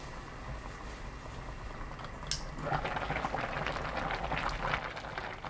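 Kimchi and dried pollack stew simmers under a lid in a pot, giving a soft, steady bubbling hiss with scattered small pops, faint and close, no talk.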